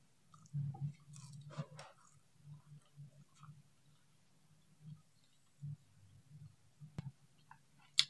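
Wet, intermittent chewing close to the mic as takjil snacks are eaten in a mukbang: martabak tahu, martabak mie and lumpia-skin martabak with instant noodles, filled with meat and egg. Soft irregular bites and mouth sounds with short quiet gaps.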